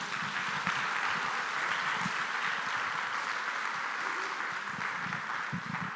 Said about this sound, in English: Thank you for this round of applause